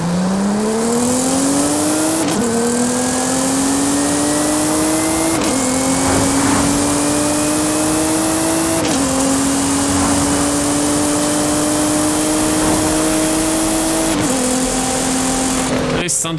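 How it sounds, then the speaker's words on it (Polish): A stock Nissan GT-R in Forza Horizon 5 revs hard and loud through several upshifts, its engine note climbing and dropping with each gear change, with faint tire squeal and no talking. "A właśnie, posłuchajcie sobie GT-R'a."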